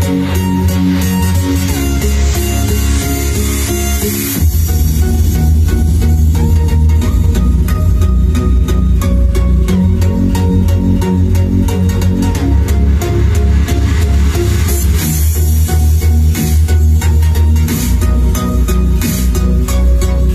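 Music sample played loud through a Sony HT-S20R home theater soundbar system, dense and continuous with a heavy, booming bass line and a bright full mix running throughout.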